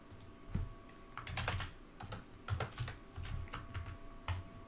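Fingers type on a computer keyboard in quick irregular bursts of key clicks with heavier thumps, close and fairly quiet, over a faint steady hum with no talking.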